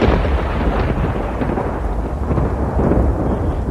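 Heavy thunder rolls through a constant downpour of rain, loud and unbroken, serving as a thunderstorm effect in a Spanish-language radio drama adaptation of Poltergeist (1982).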